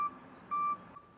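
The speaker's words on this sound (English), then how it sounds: "Backup beeper." A Jeep backup beeper gives two short electronic tones, the second longer, close by and fairly faint, with no talk.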